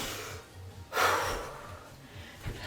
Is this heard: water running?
no